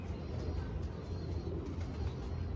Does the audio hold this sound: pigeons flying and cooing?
yes